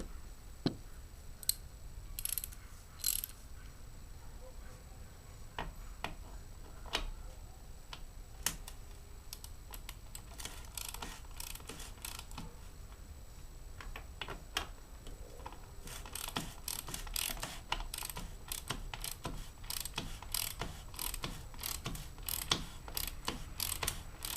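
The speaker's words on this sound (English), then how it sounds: "So now I'm going to install our tool and tighten everything down." Ratchet tool tightening the bottom bracket on a 2010 GMC Denali road bike, giving irregular bursts of sharp clicking and pawl ratcheting over a low background hum, with no talk.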